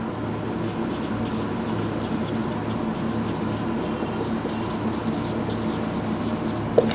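A marker or chalk scratches steadily across a board in continuous writing strokes, close and moderately loud, with no talking.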